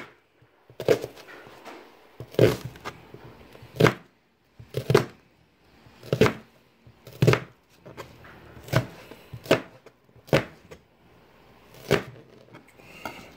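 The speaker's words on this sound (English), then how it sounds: "you're simply going to go chopping up and down" Knife chopping red onion on a board, about a dozen distinct close thuds at an uneven, unhurried pace with quiet gaps between strokes.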